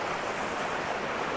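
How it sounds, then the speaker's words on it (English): Rampart Creek rushing along the roadside on the Icefields Parkway in Canada, a steady broadband wash of flowing water filling the whole moment at even loudness, close by with no voices. "we found a creek right on the side of the road called Rampart Creek"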